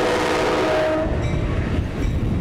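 Amtrak Heartland Flyer passenger train running on its route to Fort Worth, a loud, steady rumble of wheels and rail noise with a brief horn-like tone early on, continuous throughout with no talk.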